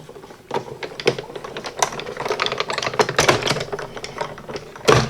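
Die cutting machine pressing card scraps through a plate, set at an angle, giving a run of close, crackling crunches and clicks of moderate loudness, with a sharper burst near the end.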